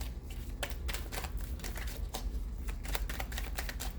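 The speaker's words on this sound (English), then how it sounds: "It didn't flip up right, so I'm going to keep shuffling." Tarot cards being shuffled by hand, a fast, irregular run of crisp riffling clicks and flutters, close and quiet, with no voice.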